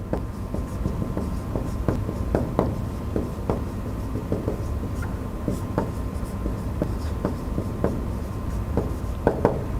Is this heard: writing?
yes